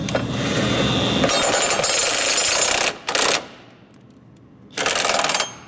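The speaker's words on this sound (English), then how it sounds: "I'm just going to use the impact wrench to run it up some" An impact wrench tightens a bolt on a nerf bar running board bracket of a Chevrolet GMC 2500/3500 pickup: a long, loud hammering rattle, a very short burst, a quiet pause, then a third burst, all up close.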